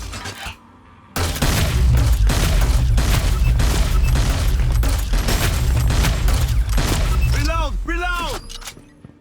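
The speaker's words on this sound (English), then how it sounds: "the grenades explode on impact with enemies, or they'll bounce once if they come into contact with a wall or a floor" Grenade launcher explosions in the video game Hyper Scape: a dense, loud run of rapid blasts and booms lasting several seconds, heard under a narrator's voice.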